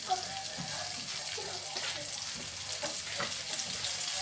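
Sliced onion rounds seasoned with salt and pepper sizzle steadily in a hot pan for a pizza topping, a continuous crackling hiss with faint clinks.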